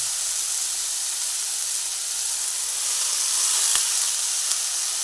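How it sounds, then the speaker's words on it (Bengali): Drumstick flowers fry together with potatoes and eggplant in a pan, making a steady, bright hiss that stays close and even throughout, with one brief tap near the end. "সুন্দর দেখুন সেই সজনে ফুল এক সুন্দর একসঙ্গে ভেজে নিচ্ছি"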